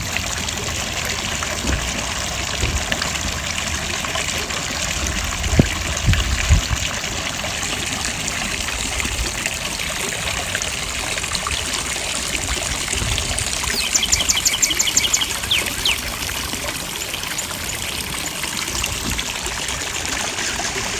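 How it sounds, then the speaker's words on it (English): An outdoor water fountain runs on a sunny garden walk among flowers, giving a steady, continuous trickle and splash at moderate volume with no voices. "That dry water fountain is now running."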